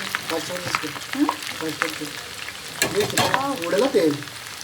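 Banana chips frying in oil at low to medium heat, with a bubbling close sizzle and stirring scrapes under a voice talking throughout.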